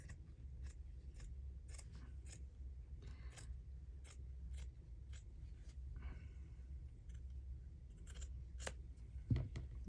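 Scissors snip through paper craft strips in a quiet room, a series of short crisp cuts at an irregular pace over a low background hum, close and clear with no talking.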